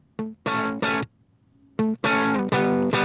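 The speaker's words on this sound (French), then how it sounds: "Là, vous entendez, il y a un peu de distorsion, de grichement. C'est à cause que l'attaque est trop rapide." Electric guitar played through an SSL console, its notes chopped and gritty as a noise gate with too fast an attack clamps down, giving short distorted bursts separated by silence.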